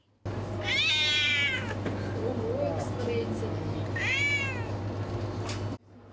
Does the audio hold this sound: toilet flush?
no